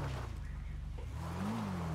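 A motorcycle engine in a GTA RP game, humming low and close with a short rev that rises and falls toward the end.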